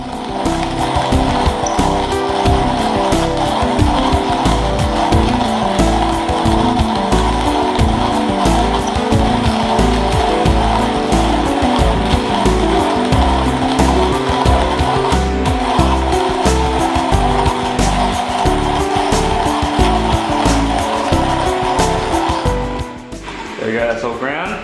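Coffee beans being crushed in a hand grinder for Aeropress coffee, a loud, steady, close grinding rattle that runs continuously for the whole stretch and stops just at the end.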